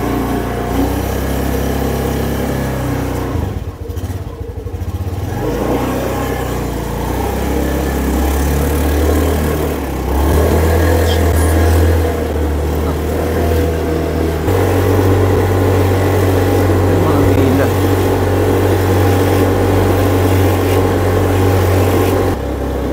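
A motorbike climbing uphill toward a restaurant near Bali Botanical Garden, its engine droning loud and close throughout, revving and shifting pitch as it labors up the slope, with no talking.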